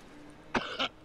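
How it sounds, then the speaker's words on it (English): A man in Assassin's Creed Origins gives two quick coughs, a sharp one followed by a softer, throaty one, close and alone over faint background hum. "It's his coughing."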